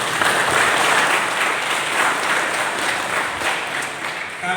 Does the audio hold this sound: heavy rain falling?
no